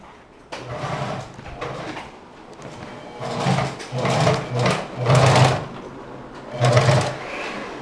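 A home sewing machine runs in several short bursts while curtains for a living room are sewn, with brief pauses between runs and a faint voice now and then.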